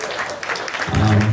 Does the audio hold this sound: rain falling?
no